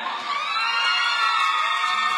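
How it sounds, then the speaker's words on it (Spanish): A television studio audience at a Canal 13 party cheers, whoops and applauds a prize winner, a dense, steady crowd roar filling the space without pause. "¡Aplausos para ella!"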